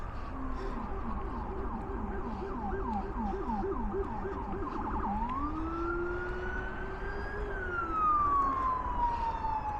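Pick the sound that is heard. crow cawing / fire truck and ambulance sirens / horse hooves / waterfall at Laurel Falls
fire truck and ambulance sirens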